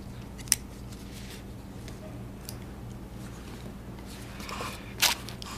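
A hand-rolled cigar has its tip snipped off with a cutter: two sharp, crisp clicks a few seconds apart, close and clear over a quiet room.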